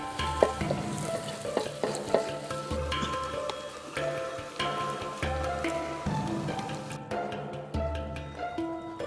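Pots and frying pans clatter while food sizzles and is stirred over a camp stove in the mountains of Rinjani National Park, Lombok, with repeated scraping strokes and metal knocks close by, no speech.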